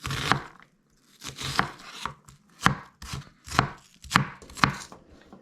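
Knife dicing a medium-to-small onion on a cutting board outdoors, a run of about ten crisp, evenly spaced chops with short pauses, close and clear with no talking.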